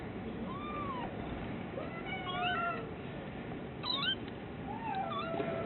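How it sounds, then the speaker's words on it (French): A cat meows several times, rising and falling cries over a faint hiss of background noise, with no talking. "Même les chats réagissent."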